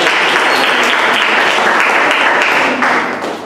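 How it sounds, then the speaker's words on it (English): A crowd at a secondary school talk applauds steadily, dense clapping filling the room at a constant loud level before tapering slightly at the end. "So a round of applause for Mr. Abdullah."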